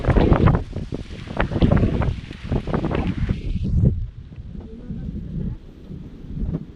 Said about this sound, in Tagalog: Ayan, ganyan po gumaganyan yung hangin